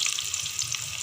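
Tandoori chicken pieces fry in a pan with a bright, steady sizzle and crackle heard up close in a brief burst.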